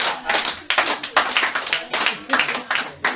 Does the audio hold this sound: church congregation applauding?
yes